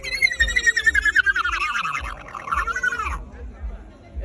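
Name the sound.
man imitating a horse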